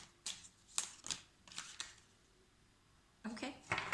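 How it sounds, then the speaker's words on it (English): Santa Muerte tarot cards being shuffled in a few quick riffling bursts separated by short pauses, close and fairly quiet, with a louder flurry of card noise at the end. "So now I'm gonna shuffle some cards from the Santa Muerte Tarot."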